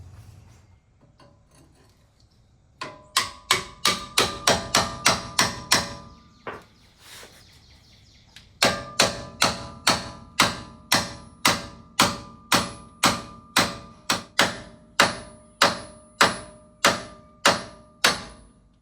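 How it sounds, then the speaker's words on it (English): A hammer repeatedly strikes a pickle fork wedged between the steering linkage and pitman arm of a Jeep Wrangler TJ: a quick burst of sharp metallic blows, a short pause, then a long steady series of evenly spaced, loud, close hits. "I'm gonna go get the pickle fork and start trying to wedge this thing off of the pitman arm"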